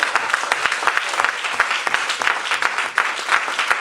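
A church congregation claps in sustained applause to acclaim the Lord during an Easter sermon, a dense, loud wash of many hands with no voices standing out.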